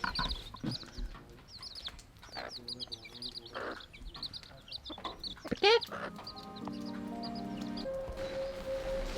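Chickens clucking near Siikhe lake in Ziro Valley, a run of scattered clucks and squawks at moderate distance, with a voice speaking between them and a steady tone late on.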